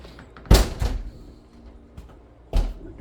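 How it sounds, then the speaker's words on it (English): A door shuts at home with a heavy thud, followed by a softer knock a moment later and another solid thump near the end, close and fairly loud against a quiet room. "The door's shut."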